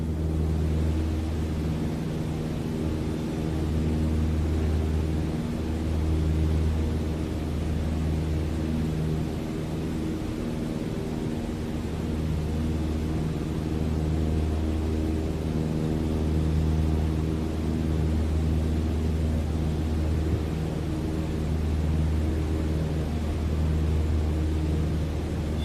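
A light plane's engine in flight in a flight simulator, climbing away from the runway: a steady, droning hum with a low rumble and broad airy noise that holds evenly the whole time.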